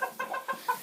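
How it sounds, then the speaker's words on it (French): A rooster of unknown breed on a small farm gives a short series of soft, close clucks, quiet and alone. "Ici, ça, c'est un coq qu'on connaît pas sa race."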